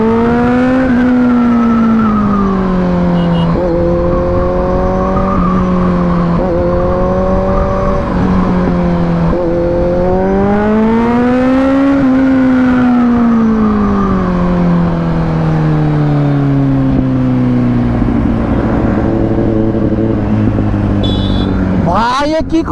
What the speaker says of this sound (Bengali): আজকে মানে প্রচুর বাইক যাচ্ছে